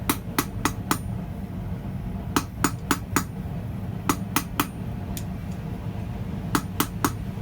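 A hammer forges a steel finial on the edge of an anvil, sharp ringing metallic strikes coming in quick clusters of two to four blows, loud and close over a low background rumble.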